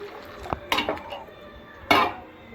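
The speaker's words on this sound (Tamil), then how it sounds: "தண்ணி சேர்த்துடலாம்." Water is added to a pot of Mysore rasam in a home kitchen, with a few quiet clinks of metal vessels and a splashing pour, sparse and close with no talk.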